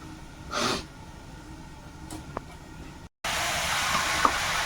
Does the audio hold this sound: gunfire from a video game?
no